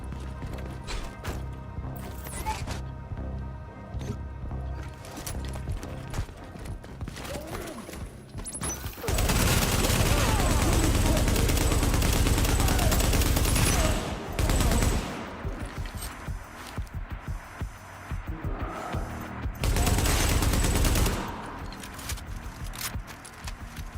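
Turret gunfire in The Division 1 video game comes as loud, sustained automatic bursts, with two long heavy volleys separated by quieter stretches of game ambience and scattered impacts.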